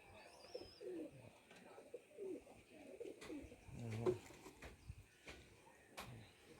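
A Kaldam female pigeon coos in low, repeated murmuring phrases close by, with faint clicks and light background noise between the calls.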